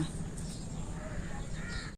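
Crows cawing outdoors over a steady background hum, calls fairly loud and repeated for a couple of seconds.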